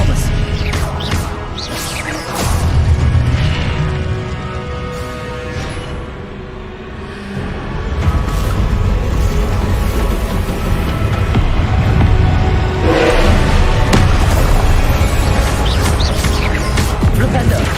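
Spell-casting and magical combat in Hogwarts Legacy on PS5: a continuous, loud, dense wash of whooshes, bursts and impacts, with brief surges of crashing energy and a backing score, persisting throughout.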